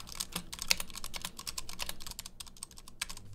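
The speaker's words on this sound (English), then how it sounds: "let's hear what the Ducky 1-to-Mini sounds like first" Typing on a Ducky One 2 Mini mechanical keyboard, a steady run of close, crisp key clacks with brief pauses and no talk.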